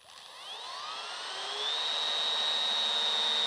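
A 3.6V electric screwdriver with a torque ring set to its lowest setting drives a 50mm countersunk bit. Its motor whine rises as it spins up, then holds a steady, close, high-pitched hum with no talking.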